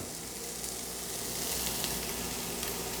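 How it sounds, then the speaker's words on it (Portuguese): Chopped onion with garlic sautéing in a pan, a steady close sizzle and hiss of frying that builds slightly over a few seconds, no voices. "eu vou acrescentar 1 cebola grande picada"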